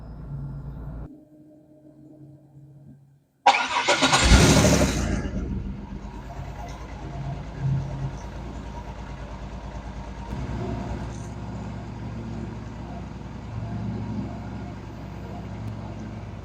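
An old, run-down car engine cranks and catches with a sudden loud roar, then settles into a steady, rough idle that runs on at moderate volume, with a quiet hum beforehand.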